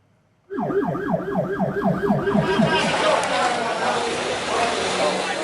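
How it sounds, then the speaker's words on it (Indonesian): Ambulance sirens wailing loudly and continuously near a sports hall in Cipongkor, West Bandung, with overlapping rising-and-falling tones that blend into a dense roar. "Senin malam, ambulans silih berganti datang ke GOR Kecamatan Cipongkor"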